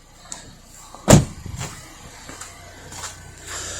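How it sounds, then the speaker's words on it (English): A Volvo S90 remote-started on a snowy day in Dallas, Texas: one sharp thump near the start, then a low, steady idle hum that carries on quietly to the end. "I was able to remote start the car,"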